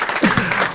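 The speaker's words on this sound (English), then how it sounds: "a round of applause for Ms." A seminar audience claps in a brief burst of applause, a dense crackling wash of many hands filling the room, with a voice faintly mixed in.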